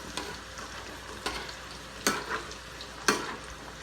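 Potatoes and carrots fry in hot oil, a constant sizzle broken by four sharp scrapes of stirring spaced about a second apart.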